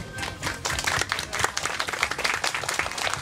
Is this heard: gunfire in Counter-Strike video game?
no